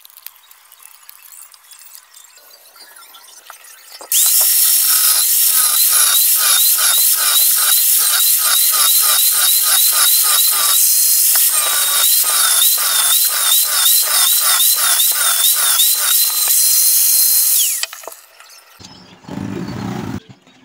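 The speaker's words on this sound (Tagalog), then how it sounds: "gumamit na po tayo na pang cutter sa ating inner tube mga boss" A power cutter grinds into the inner tube of a worn telescopic front shock from an XRM 125 motorcycle, producing a loud, continuous high-pitched roar with a wavering whine that runs for about fourteen seconds before stopping abruptly.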